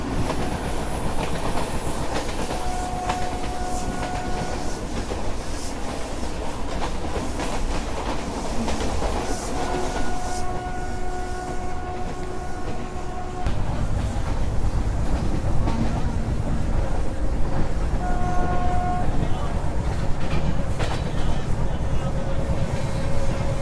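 An Indian Railways train pulling out of Jammu rolls steadily along the tracks, a continuous loud rumble of wheels and carriage noise with faint tonal whines and squeals, growing heavier partway through, with no talking.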